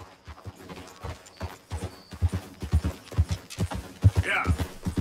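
Horse hooves clip-clopping at a steady walking pace in the video game Red Dead Redemption 2, close and fairly quiet, with a brief whinny toward the end.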